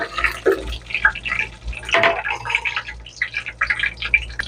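Whole spices, cloves, cinnamon, cardamom, star anise, bay leaf and fennel, spluttering in hot oil for a soya kurma, giving a dense crackling and hissing sizzle with bright pops throughout, close and steady.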